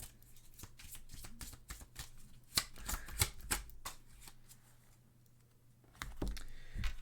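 Tarot cards shuffled and drawn by hand at close range, a quick run of soft riffling clicks and slaps with brief pauses, quiet and unaccompanied by speech.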